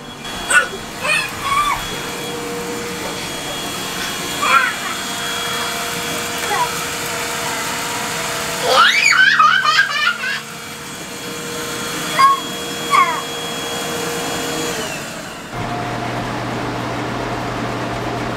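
A steady vacuum cleaner drone runs throughout, with a few brief voices and clatters over it, then the motor's pitch shifts near the end.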